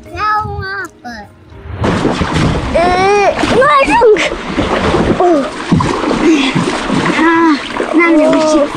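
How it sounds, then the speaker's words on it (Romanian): Children splash and play in water, stirring up waves, with loud broadband splashing running throughout under excited children's voices and shouting. "Ia să vedeți cum la noi se fac valurile."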